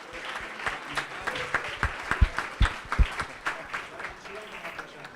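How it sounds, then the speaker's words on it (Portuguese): A studio audience at a TV Morfosis broadcast applauds, individual hand claps distinct and rhythmic over a thinner crowd patter, with a voice speaking briefly beneath, easing off near the end. "Vamos aplaudir o Railber,"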